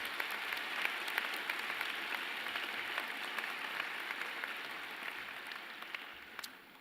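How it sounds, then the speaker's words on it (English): An audience applauds at a December 2017 SMU commencement ceremony, steady sustained clapping from a large crowd heard at a moderate distance, fading slightly toward the end. "Will the audience please join me in recognizing these individuals with your applause?"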